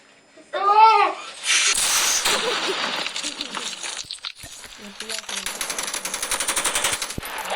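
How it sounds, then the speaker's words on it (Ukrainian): Bursts of rapid automatic machine-gun fire crackle loudly in Call of Duty Mobile, with shouted voices and a laughing outburst near the start, then continuous firing rattles on. "в мене хтось стріляє в нас"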